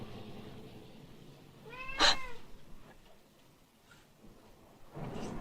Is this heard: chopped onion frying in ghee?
no